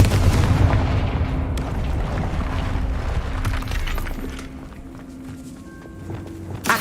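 Fire-curse spell explosions go off in the Hogwarts Legacy video game, as dense booming blasts and rumble that run continuously at close range with no clear pauses.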